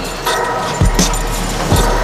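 A bunch of keys jangles close by in three quick metallic rattles, each a short bright burst over a low background rumble.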